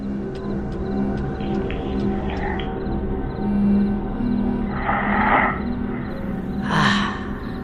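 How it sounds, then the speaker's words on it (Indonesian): Slow, rasping snores repeat amid a low background hum, each breath a rough growling rush, fairly close. "aku mendengar suara mendengkur"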